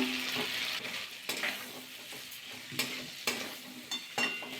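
Spiced cauliflower with tomato is stirred in a pan, giving a soft continuous sizzle with regular sharp scraping knocks of the spoon against the pan every second or so.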